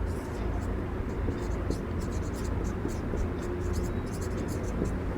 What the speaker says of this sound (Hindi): यहाँ लिख दे रहा हूँ